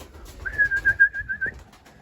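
A homing pigeon coos during a training session, a single sustained rolling coo of about a second, close and fairly quiet, over soft fluttering and low background noise.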